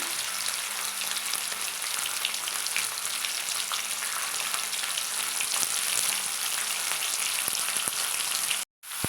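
Prawns and pumpkin fry in a pan with a loud, continuous, dense sizzle that holds steady throughout, ending with a brief cut near the close; no one talks.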